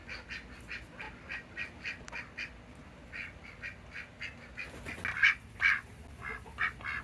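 A goose and gander honk repeatedly in short nasal calls, a rhythmic back-and-forth chatter at moderate distance, growing louder and busier toward the end.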